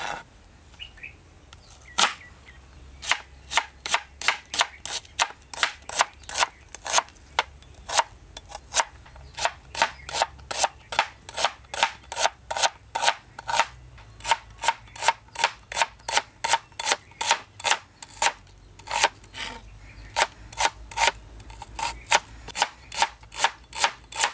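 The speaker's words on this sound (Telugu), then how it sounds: "అలాగే 2 ఉల్లిపాయలు కూడా పొడవుగా కోసి పక్కన పెట్టుకుందాం." Onions sliced lengthwise with a knife, a long run of sharp, even chopping strokes on a board, close and crisp, steady in rhythm and quickening toward the end, with no talk.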